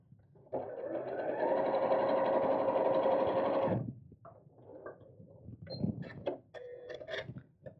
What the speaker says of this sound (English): I just want to make sure I'm sewing underneath it